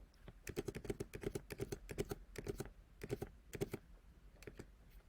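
Bank card details typed on a computer keyboard, a quick run of crisp key clicks in short bursts with brief pauses, close and fairly quiet, no voices.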